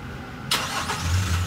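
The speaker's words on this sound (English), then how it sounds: "And to start the engine, just put your foot on the brake and push the button to start." A 2020 Toyota Hiace Super Grandia Elite van is started by push button, giving one sudden loud engine catch that settles straight into a steady close idle, with no talk.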